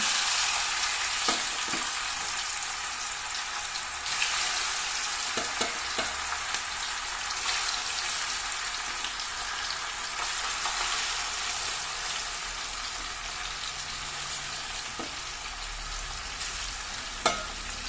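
Small sardines fry in hot oil with a steady, close crackling sizzle throughout, broken by a few sharper pops and spits; no one speaks.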